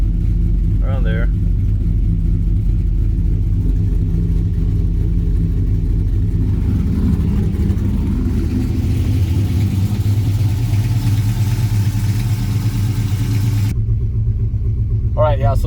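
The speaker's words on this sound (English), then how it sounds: "the truck is running alright" A 2003 Chevrolet Silverado pickup with a 6.0 engine running steadily nearby, a loud constant low drone that settles slightly lower near the end, with a brief voice at the start and end.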